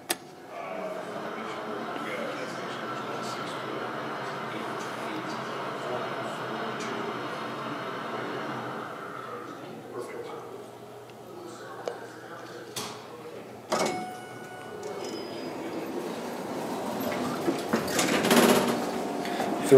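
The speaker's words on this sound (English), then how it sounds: "Here we come to the elevator at the La Quinta Inn," Schindler hydraulic elevator at a La Quinta Inn near DFW Airport runs with a steady low hum, followed by scattered clicks, a thump and a rising hiss as the car stops and the doors move, with faint talk in the background.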